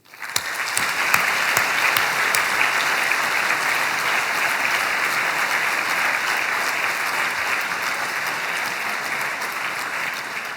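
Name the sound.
round of applause at graduation ceremony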